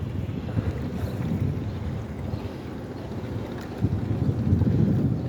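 A boat turning on a river under a bridge, a steady low rumble of engine and water churn with wind buffeting the microphone, continuous and fairly close with slight swells in loudness.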